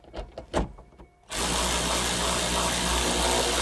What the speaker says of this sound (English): so we can reinstall the two T20 screws